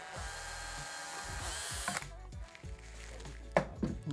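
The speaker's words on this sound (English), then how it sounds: "I just need to waz some screws in at a random spot" A power drill drives screws into a campervan build, with short whirring bursts of the motor that stop and start, a ratcheting clutch clicking in between, and a brief tool knock near the end, all up close.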